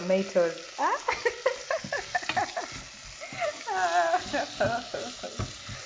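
Fresh salad tomatoes sizzle and fry in a pan while being stirred for omena, a soft continuous crackle heard under a person talking throughout.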